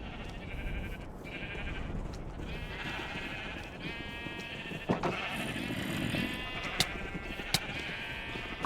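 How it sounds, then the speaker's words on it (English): Sheep bleat repeatedly in a Minecraft meadow, several overlapping calls at moderate loudness over a steady game background, with a few sharp clicks near the end. "And I have a bunch of extra sheep."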